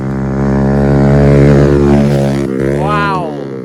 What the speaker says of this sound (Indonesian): bentar, ada motor lewat.